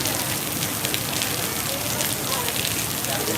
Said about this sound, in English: I don't think it was supposed to rain this hard.